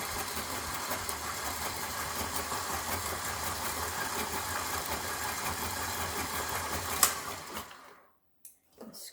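A stand mixer with a scraper attachment works cookie dough, giving a steady motor whir with a low, uneven churning hum, close and fairly quiet, before it switches off near the end.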